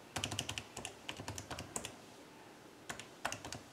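Numbers tapped onto a calculator keypad, a quick burst of light plastic key clicks followed by a pause and a few more presses, close and fairly quiet with no talking.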